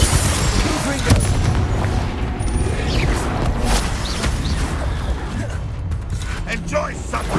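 Confringo fire-blast spell cast in the video game Hogwarts Legacy, dense booming explosive bursts and crackling impacts layered with constant game combat noise throughout.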